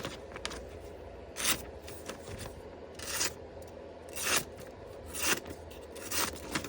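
A knife edge is drawn over paper in repeated stroking passes, each a soft brushing scrape about once a second, close and fairly quiet with no voices.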